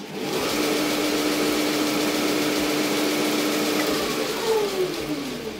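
A home workshop machine tool starts up and runs with a steady mid-pitched motor hum and whir. The pitch shifts slightly near the end, and the sound stays close and constant.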